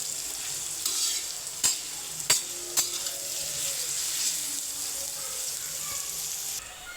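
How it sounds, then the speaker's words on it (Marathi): Onion sautéing in hot oil with garlic, cumin and curry leaves, a steady close sizzle with a few sharp utensil clicks and scrapes as it is stirred, no talking. "आता त्यामध्ये कांदा टाकूया। कांदा टाकून त्याला छान प्रकारे परतून घ्या, गोल्डन ब्राऊन व्हायपर्यंत।"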